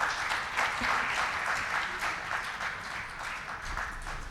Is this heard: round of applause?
yes